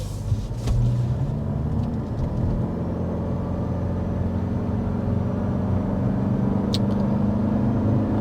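A 2023 Toyota RAV4 hybrid with an eCVT pulls onto a highway, heard from inside as a steady low road rumble and engine hum that holds evenly throughout.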